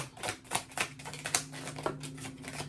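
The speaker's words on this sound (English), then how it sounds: "I don't know why I'm shuffling so fast." Tarot cards shuffled fast and hard, a run of crisp riffling bursts and clacks with a steady low hum underneath, no talking.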